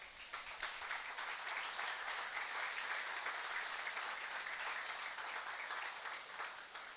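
A congregation at a Sunday church service at Iglesia Dios Admirable in Charallave gives an applause to the Lord. Even, continuous clapping fills the room at a moderate distance and carries on without pause.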